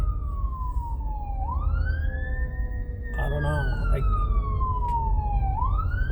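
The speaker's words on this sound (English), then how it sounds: "And I get a siren coming. It sounds like it's coming right my way." A wailing fire truck siren sweeps up and down in long cycles, loud and drawing closer over road noise, with someone briefly speaking in the middle.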